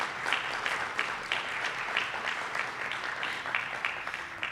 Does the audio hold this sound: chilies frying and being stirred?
no